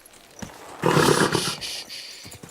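A horse in Kingdom Come: Deliverance II lets out a loud, close whinny-like burst lasting about a second, then settles into softer movement and light thuds.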